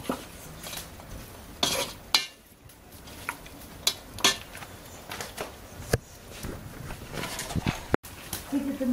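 Onion and meat stirred together in a pot over an open fire for plov, with repeated scraping and clanking of a utensil against the pot in short irregular bursts, close by, over a steady background sizzle.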